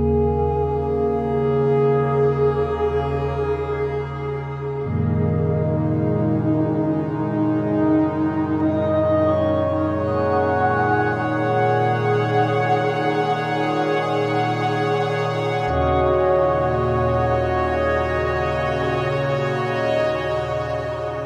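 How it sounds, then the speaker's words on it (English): Cherry Audio GX-80 software synthesizer, a Yamaha CS-80 emulation, playing lush, sustained polyphonic chords that change a few times, steady and fairly loud throughout with no voices. "This is the GX-80, an emulation of the Yamaha CS-80"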